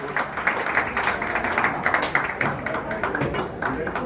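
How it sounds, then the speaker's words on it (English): Applause from an audience at an Independence Day housing-society celebration as a woman is called onto the dais, a steady wash of clapping under continuous talk. "A huge round of applause to Mrs. Azuria Gursharanji."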